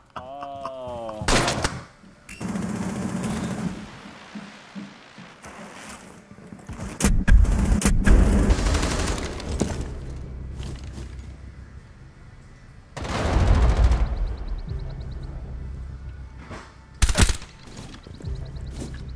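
Video game gunfire rattles in bursts of sharp shots and heavier volleys, with rumbling explosions, while players talk over the action.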